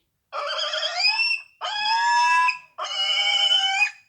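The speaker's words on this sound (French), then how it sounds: "C'était un cochon." Three loud, drawn-out squealing calls in a row, each about a second long, separated by brief silences, like a pig squealing up close.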